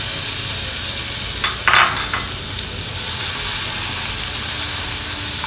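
Smoked pork sizzling and frying in a very hot dry pan with no oil, a steady close broadband hiss with a brief louder crackle and stir near the middle, no talk.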